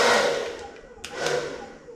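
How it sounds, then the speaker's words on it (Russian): A hotel suite hair dryer blows with a steady broadband whoosh that fades slightly, with a couple of brief clicks or knocks partway through and no talking. "феном пользоваться"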